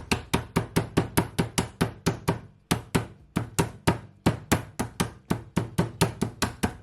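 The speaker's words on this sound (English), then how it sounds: "here I have one of these food hammer, and I'm just gonna smash it down" A food hammer pounds raw chicken for homemade chicken tenders, about thirty sharp, evenly spaced thuds in a brisk steady rhythm, close and loud, with one brief pause partway through.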